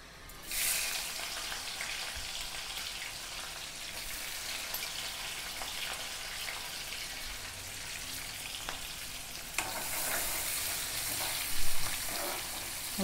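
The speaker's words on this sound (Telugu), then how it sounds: "ఉల్లిగడ్డలు వేసుకున్నాం. ఇప్పుడు ఉల్లిగడ్డలు మంచిగా ఫ్రై కావాలి." Chopped onions sizzle steadily in about four spoons of hot oil for a home-cooked chicken curry, a continuous broadband crackle with a brighter burst near the end and occasional stirring clinks.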